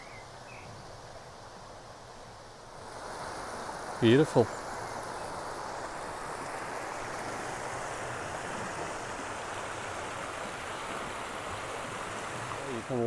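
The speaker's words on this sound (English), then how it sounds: "Like a mini waterfall down at the bottom." Steady rushing water from a small waterfall at the bottom of a bank runs throughout, a continuous broadband wash, with a brief voice speaking once partway through.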